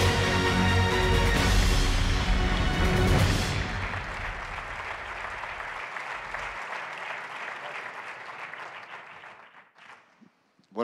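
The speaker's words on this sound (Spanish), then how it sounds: "Un aplauso para el presidente de la Federación Serbia de Baloncesto, Sasha Danilovic" Gala audience at a basketball Hall of Fame ceremony applauds the Serbian Basketball Federation president, loud sustained clapping over music at first, then thinning and tapering toward the end.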